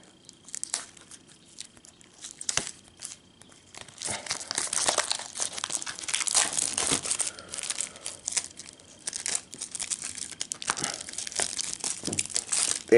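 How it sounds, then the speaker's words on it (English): Crinkly plastic wrap is peeled and torn off a set of Sailor Moon art cards from a Blu-ray limited edition, starting with sparse crackles and then turning into dense, steady crumpling up close for several seconds. "Time to get the plastic off"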